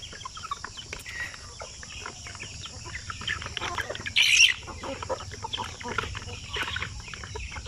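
Two-month-old chickens on a small farm keep up steady clucking and chirping, with one louder, brighter call rising briefly in the middle above the continuous flock chatter.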